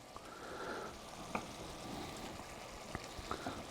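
Cod and potatoes frying in a pan, a steady low sizzle with soft crackles and a few small pops, close and fairly quiet, no talking.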